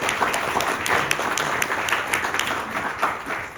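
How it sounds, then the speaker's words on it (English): Audience clapping after a Kubernetes conference presentation, a dense burst of many hands applauding at moderate distance, steady and continuous for a few seconds with no talk over it. "I'll take those claps. I think I deserve them."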